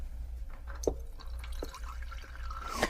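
Water trickles and drips from the tap of a generic Berkey-style gravity filter with activated carbon and ceramic elements, a few distinct drips over faint steady hum, fairly quiet and close.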